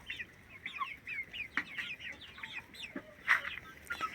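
Chicks and a rooster cluck and chirp softly in scattered bursts, with a few sharper calls, fairly close against a quiet background.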